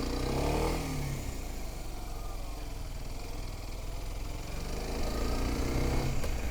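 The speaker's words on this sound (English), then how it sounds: "You can use some engine braking." A motorcycle engine brakes while slowing after the clutch is let out, a steady, close mechanical drone that holds fairly even and swells slightly louder at the start and end.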